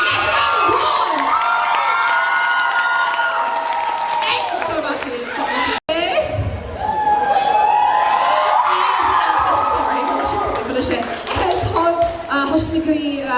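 Audience at the Overload NZ 2025 cosplay competition erupts in loud, sustained cheering, whoops and shouting with applause, a dense crowd roar that fills the whole stretch, briefly cutting out midway before surging back.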